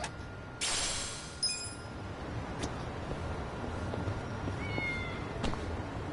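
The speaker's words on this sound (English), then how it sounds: "Where's this cat?" A cat in the video game Yakuza: Like a Dragon meows a couple of times, brief clear cries with gaps between them, set against a constant low ambient hum of the game world, no talking.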